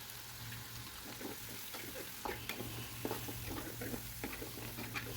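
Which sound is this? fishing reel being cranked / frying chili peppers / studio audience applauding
frying chili peppers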